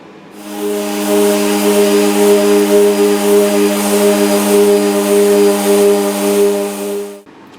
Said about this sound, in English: apologies for the noise, we've got our dust extractors on and air cleaners